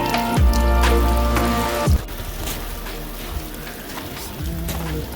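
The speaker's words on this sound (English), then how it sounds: "It's raining, but I'm going to show you what I'm going to do here pretty quick." Rain falls outdoors in a steady hiss of drops, with a brief low rumbling hum early on before the patter carries on alone.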